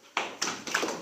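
A sermon audience breaks into clapping in three quick bursts, loud and close, each rising sharply and then tailing off within about a second.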